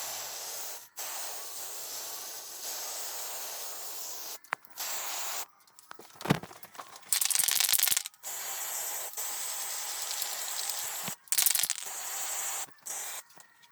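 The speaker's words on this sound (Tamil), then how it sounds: "நம்ம கிட்ட ஏற்கனவே சிவப்பு கலர் ஸ்ப்ரே பெயிண்ட் இருந்துச்சு" Red spray paint hissing from an aerosol can in repeated bursts of varying length with brief silent pauses between, close and fairly loud, during a homemade clock craft project.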